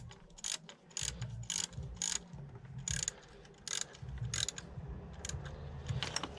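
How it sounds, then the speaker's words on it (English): A 4mm Allen key is turned by hand, feeding in the Valvetronic motor on a BMW E87 130i N52 engine. It gives a close, quiet series of ratcheting clicks in uneven bursts, with no voices. "We need to get that 4mm Allen on the back end there and just feed it in clockwise."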